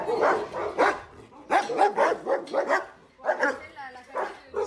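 Several dogs bark and yip in an animal shelter, sharp repeated bursts close by and fairly loud, with a person talking in French among the barks.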